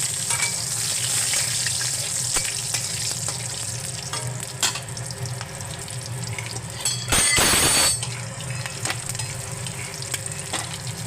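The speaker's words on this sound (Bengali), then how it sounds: "এবার আমি 5 ফোড়ন আর তেজপাতা আর একটা কাঁচা লঙ্কা ফোড়ন দিলাম।" Five-spice, bay leaf and a green chili sizzle in hot oil for a cabbage and fish-head dish, a steady close frying hiss broken by stirring clatters and a brief louder burst of sputtering midway.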